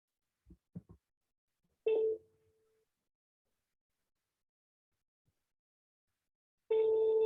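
A phone call is placed: a few short dialing clicks and tones, then a single ringback tone, a long gap of silence, and a second ring starting at the end.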